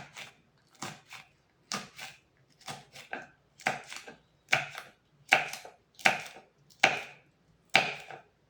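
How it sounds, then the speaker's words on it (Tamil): A knife chops through banana stem on a board in a home kitchen, about a dozen crisp, evenly spaced cuts roughly every second, close and clear with no talking. "வாழைத்தண்டு வெட்டி எடுத்தாச்சு."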